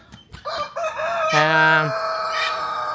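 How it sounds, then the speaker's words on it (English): A cockerel crows loudly nearby in a rural Bulgarian village, one long strained cock-a-doodle-doo rising and trailing off, preceded by a couple of short clucks. "it's a cockerel. Makes quite a lot of noise."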